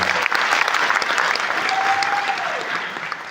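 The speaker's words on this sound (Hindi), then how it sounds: "सर के लिए एक बार जोरदार तालियां" Enthusiastic crowd applause for a mentor at a gathering, with loud, continuous clapping throughout and a faint tonal sound rising briefly in the middle.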